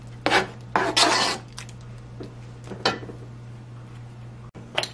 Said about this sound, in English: Constantly mix because you do not want the rice to get stuck in the bottom.